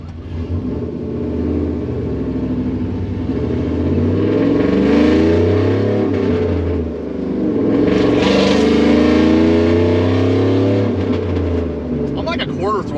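A Chevrolet Silverado pickup with a 4.8 V8 and a 5-speed manual gearbox accelerates while driving, its engine note rising and falling in loud pulls with the throttle, heard from inside the cab while someone talks over it.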